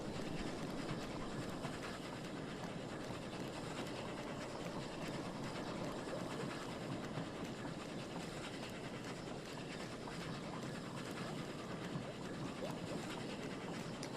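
A fast-moving train in the video game Oddsparks gives off a steady, faint rushing rumble with a soft rhythmic clatter that holds level from start to finish.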